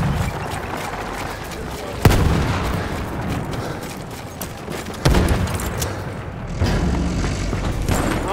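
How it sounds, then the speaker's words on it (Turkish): Loud, dense Battlefield 1 battlefield: repeated booming bomb blasts at about 2 s and 5 s over continuous crackling gunfire and rumble, with a fresh burst of fire near the end. "Bomba atıyorum. Başınıza dikkat eyleyin."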